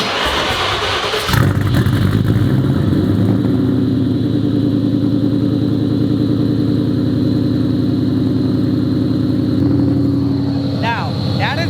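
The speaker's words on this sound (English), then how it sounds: "So without further ado, let's get a cold start" Terminator Cobra, a supercharged Mustang not yet fully tuned, cold-starts with a cranking burst, then settles into a loud, steady, lumpy idle that runs close and continuous with no talk over it.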